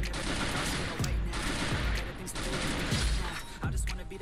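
Gunfire from an MP40 submachine gun or SKS rifle in the mobile shooter Free Fire: repeated bursts of rapid shots with sharp cracks at irregular intervals over busy game ambience.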